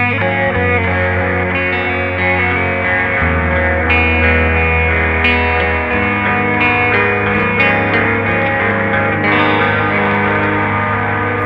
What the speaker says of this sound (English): wind the mix control back so we're getting less of the delay and the distortion.